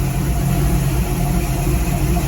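A big block car engine with a CHC11 Champion three-row radiator cooling setup idles steadily nearby, a loud, even low rumble with constant vibration and no speech.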